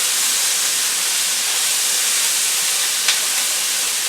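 A whole onion and three chopped garlic cloves cook in a hot pan for a spicy island chicken dish, giving a steady, loud sizzling hiss that runs unbroken throughout, with one brief sharper crackle near the end.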